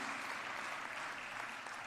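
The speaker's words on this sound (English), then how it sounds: "A huge round of applause, please, to all these awardees." At an inauguration and orientation ceremony for first-year undergraduate classes, a crowd applauds awardees, producing a continuous, even wash of many hands clapping that holds the same level for the whole short stretch with no voices over it.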